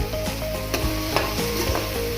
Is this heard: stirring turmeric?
yes